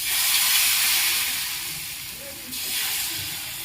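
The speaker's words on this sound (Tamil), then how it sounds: "இப்போ நம்ம ரவை தோசையெல்லாம் ஊற்றுவோம் இல்லையா," Rava dosa batter is poured onto a hot pan and sizzles with a steady, loud, close hiss that swells again partway through.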